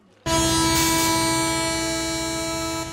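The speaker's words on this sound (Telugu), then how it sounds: "ఇదో ట్రైన్" Train horn blaring in one long, loud, steady blast that starts abruptly and holds close by for nearly three seconds.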